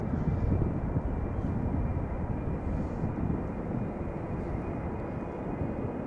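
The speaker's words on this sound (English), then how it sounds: "Sounds like a heavy is taking off from center." A heavy jet airliner takes off from the center runway at Schiphol, a steady broad roar heard at a distance, rumbling and unchanging for several seconds with no voices.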